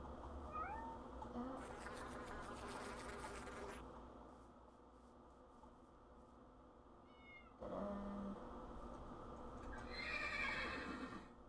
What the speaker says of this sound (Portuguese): Olha o outro cavalo ali, mano